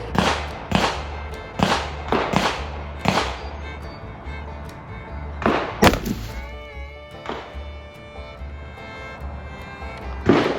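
Turkey-hunting shotgun fired at a target 40 yards away: a series of loud, sharp reports spaced a second or so apart, each with a short ringing decay, then quieter clatter and mechanical handling sounds.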